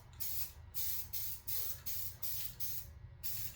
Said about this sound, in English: watch me paint the dash